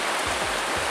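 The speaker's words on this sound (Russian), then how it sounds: "Здесь течет река Мзынта." The Mzymta river in Sochi flows past nearby hotels, heard as a dense, steady rushing hiss of moving water filling the whole second without pause.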